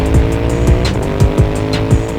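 Royal Enfield Continental GT race motorcycles at the start of a one-make race, engines revving hard near and loud, with repeated rising pitch sweeps as the bikes accelerate away together.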